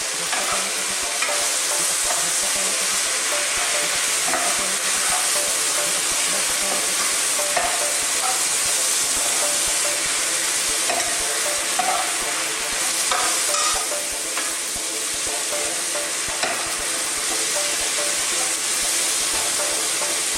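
Goat curry masala, just salted, stirred in a cooking pot, a steady loud sizzling and frying hiss with soft scraping stir strokes running throughout, no voices.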